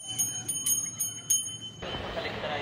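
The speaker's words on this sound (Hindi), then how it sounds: "मैं यहाँ दो बार घंटी इसलिए बजा रही हूँ" A temple bell struck in a series of bright metallic rings with lingering tones, followed by a broad noisy wash of background sound.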